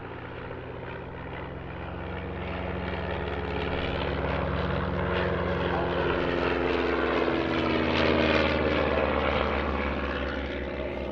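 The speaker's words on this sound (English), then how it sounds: "albeit with a very different kind of classic training aircraft" Classic training aircraft flying a display at the Midlands Air Festival airshow, a steady, loud propeller engine drone that swells and holds, with a sliding pitch shift near the end as the plane passes, and no talking.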